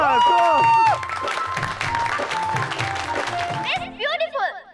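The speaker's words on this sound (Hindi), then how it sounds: "तालियां" Applause from a small gathering at a family cocktail party, a burst of clapping under background music and voices, fairly loud, ending as people speak.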